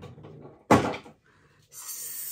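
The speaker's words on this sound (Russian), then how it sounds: "скидываю в самый нижний ящик" A cosmetics drawer is pulled open to drop in an empty foundation bottle, with a short sliding clatter and thump, then quieter rattling and a soft rustle, close up and without speech.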